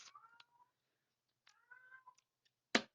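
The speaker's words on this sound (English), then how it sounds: "y'all probably hear my cat. She's just been going off." A domestic cat meows indoors, with several drawn-out calls that rise and fall, spaced by short gaps, followed by a sharp, louder sound at the end. The calls are close and moderately loud, and nobody speaks.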